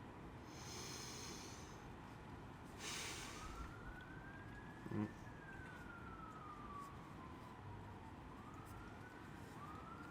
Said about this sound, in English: Wouldn't be city ambient without a siren in there.